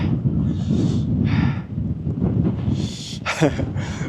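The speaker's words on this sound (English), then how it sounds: "it is windy up here." Gusty wind on a cold fell summit in the English Lake District buffets the microphone with a steady low roar, rising and falling over a few seconds with faint rustling on top.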